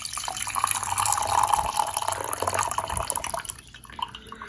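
Rinse water from a first steep of green tea is poured out. A steady trickling stream splashes for a few seconds, then thins to a few drips.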